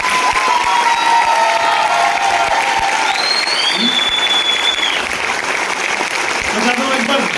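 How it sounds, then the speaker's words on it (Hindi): An audience at a Modicare event in Panipat claps loudly and continuously, with scattered cheers and whistles rising above the sustained applause. "बस इतनी सी ताली।"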